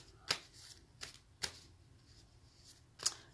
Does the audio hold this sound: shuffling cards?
yes